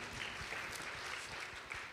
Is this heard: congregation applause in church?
yes